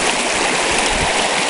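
Steady, loud rushing and babbling of creek water around a hiker wading on the Pinhoti Trail, a continuous close wash with no voices.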